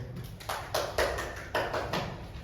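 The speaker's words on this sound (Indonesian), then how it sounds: "Berikan aplaus untuk kelompok 1" Audience clapping for a student group after their presentation in a classroom microteaching session, about six distinct bursts of claps, fairly faint and spaced out, with no talk.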